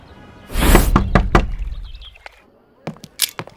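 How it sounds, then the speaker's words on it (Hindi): Knocking on a door in a Hindi film scene: a loud burst of several heavy thuds close by, then a quieter pause and a few more sharp raps near the end. "मारूफ, दरवाजा खोलिए, एक जरूरी खबर देनी है।"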